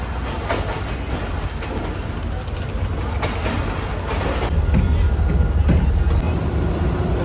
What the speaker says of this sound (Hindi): वही शाह हुसैन एक्सप्रेस निकल रही है कराची कैंट से